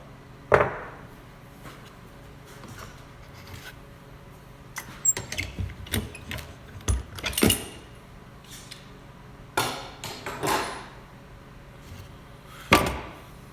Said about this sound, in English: So let's take the clamps off.